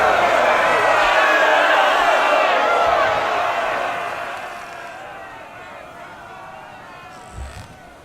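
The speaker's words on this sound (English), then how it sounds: "When she finishes, the crowd starts to move away." A large crowd in an audio drama roars and cheers loudly, then the noise steadily fades as the crowd moves away, leaving a quiet murmur by the end.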